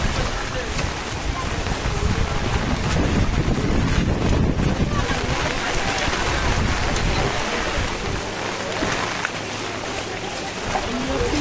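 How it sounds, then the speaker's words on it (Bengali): Heavy rain pours down steadily over a flooded stretch where a canal and road have merged, a dense broadband rush with wind buffeting the microphone throughout. "এই দেখো বৃষ্টি আরো জোরে চালু হয়েছে এখন।"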